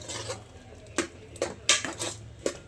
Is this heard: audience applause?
no